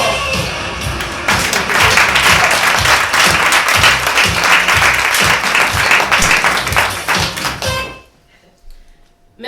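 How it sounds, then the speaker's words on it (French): A theater audience at a French stage show applauds loudly and steadily with dense, close clapping for about eight seconds, then it drops off abruptly to near silence with a faint voice at the end. "Merci pour ces applaudissements sincères"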